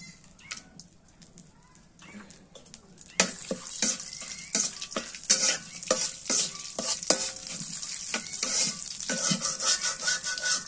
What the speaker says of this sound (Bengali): তেল দিয়ে ভাজছি তো এই জন্য আমরা তেলটা কমিয়ে দিলাম।